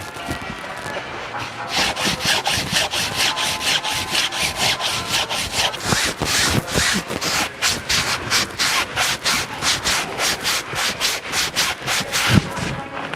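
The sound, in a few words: hand sanding wooden boat hull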